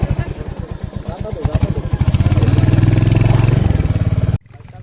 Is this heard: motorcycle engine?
yes